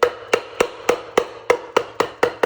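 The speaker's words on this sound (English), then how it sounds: "I take a hammer, pound the helix down gently" A hammer strikes a Polaris snowmobile clutch helix, nine sharp metallic blows in a steady rhythm about every quarter second, close and loud with no talk.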